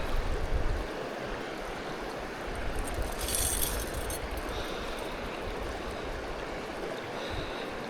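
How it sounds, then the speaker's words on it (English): Fast-moving stream water at a trout-fishing spot near Whitetop Laurel, rushing in a steady, loud, close roar with no talk over it. "This water in here is moving really fast."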